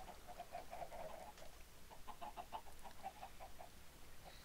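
Chickens on a farm clucking in quick, faint bursts, a few birds calling in short repeated notes over a quiet background.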